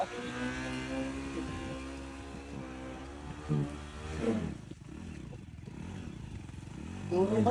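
An off-road motorcycle labouring in first gear on rough ground after a fall that left the engine smoking, a close, steady droning engine note that rises and strains in surges, with occasional clatter.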